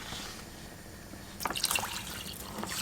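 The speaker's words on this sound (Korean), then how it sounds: "여기에 이제 사골 국물 한 팩을 넣고 같이 끓여주세요" A pack of beef bone broth is poured into a pot of simmering meat stock, a brief liquid splash and trickle arriving after a steady background hiss, close and fairly soft.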